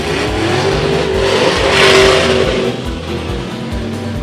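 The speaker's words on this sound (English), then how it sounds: "Vic Mengler in his 69 Camaro up against George Rosofsky." A 1969 Camaro runs at a dragstrip reunion event, a loud sustained engine roar that swells as it revs and accelerates, then eases slightly, with no talk over it.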